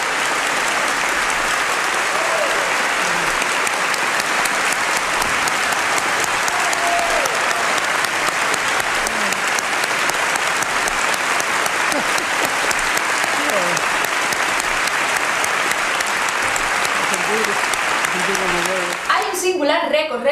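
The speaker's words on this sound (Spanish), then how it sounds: "5 minutos de aplauso que actualmente nos siguen emocionando" Long, sustained applause from a large audience at the Oscars ceremony, steady and dense throughout, with a few faint voices rising within the crowd before it breaks off at the end.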